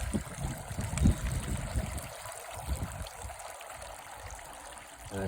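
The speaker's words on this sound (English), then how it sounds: "I just hit off and the fountain turns off." Water from a rose garden fountain trickles and splashes steadily and close by, a continuous burbling flow with no voices.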